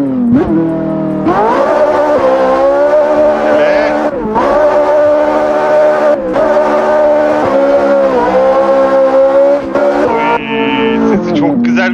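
A Ferrari sports car is driven hard, its engine howling in a loud, sustained drone whose pitch climbs and dips as it accelerates and shifts.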